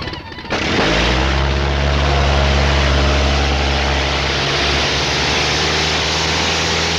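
A propeller airplane engine starts up and then drones steadily, loud and close, with a deep sustained hum and a broad roar and no voices.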